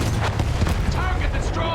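A field gun booms in a war video game, heavy rumbling blasts and explosions layered over continuous battle noise, loud and close.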